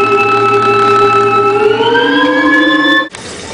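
A turbine spinning up when given power: a loud steady whine that climbs in pitch, then cuts off abruptly into a hissing rush.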